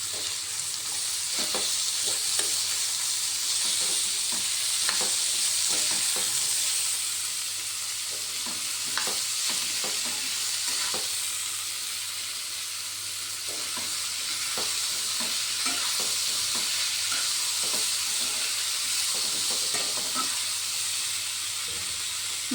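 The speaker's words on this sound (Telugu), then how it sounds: "5 మినిట్స్ బాగా ఫ్రై అవ్వనివ్వాలి" Potato, capsicum and tomato fry steadily in a pan after onions, with a constant close sizzle and hiss broken by irregular scraping stirs throughout, no voices.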